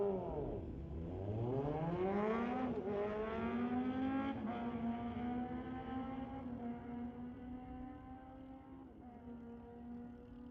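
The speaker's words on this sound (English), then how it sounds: "Charles Leake in the 2003 Kawasaki, racing Chris Leake in another Kawasaki" A Kawasaki motorcycle at a drag race, its engine climbing in a long rising whine through several gear changes as it pulls away, loud at first and fading as it goes.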